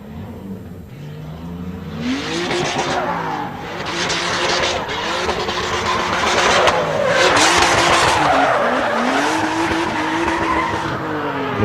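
Drift car on a qualifying run, its engine revving hard as tires skid and squeal continuously through the slides, loud and close with rising and falling pitch and no talk.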